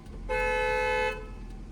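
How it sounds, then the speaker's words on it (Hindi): A single steady car horn honk sounds close by for under a second against a low engine rumble, during a driving lesson. "हॉर्न दो एक बार और,"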